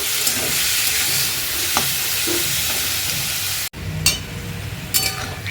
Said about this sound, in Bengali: আবারও খুব ভালোভাবে মিশিয়ে নেব।